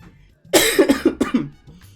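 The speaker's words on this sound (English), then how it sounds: "Just a cough that I'm kind of getting rid of at this point." A person's close, loud cough: one harsh hacking fit of about five quick bursts in under a second after a brief quiet moment.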